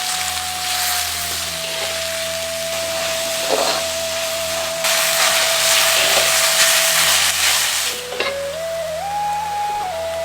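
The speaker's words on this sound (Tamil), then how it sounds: "இப்ப கொஞ்சம் எண்ணெயில 400 கிராம் பெரிய வெங்காயம், அதோட கொஞ்சம் உப்பு சேர்த்து நல்லா மொறுமொறுன்னு வறு" 400 grams of big onions fry in oil with salt, giving a broad, steady sizzling hiss that swells and dips, with a faint tonal hum from the kitchen running underneath.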